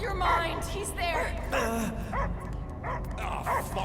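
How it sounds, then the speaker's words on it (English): Dog barking in the Marvel's Guardians of the Galaxy video game, rapid woofs and yips mixed with gasps and groans over a constant low game drone, moderately loud and close. "I hear only barking."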